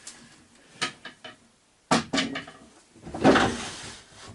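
Doors on a boat are swung shut, giving several wooden knocks and rattles, then a louder thump with a scraping latch, close by and with no talk.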